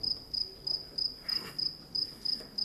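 Crickets chirp in a steady, repeating pulse of about ten short bursts, clear and moderately near against quiet background, with no talking.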